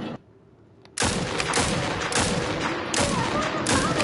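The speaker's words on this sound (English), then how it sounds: "So this auto sniper is pretty cool." Rapid automatic sniper rifle fire from the Realm Royale video game: after a near-silent start, a dense, loud stream of gunshots crackles continuously for about three seconds with brief uneven gaps, close and harsh.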